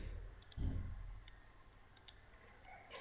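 A single computer mouse click while working in SolidWorks, with a few faint ticks after it in a quiet room.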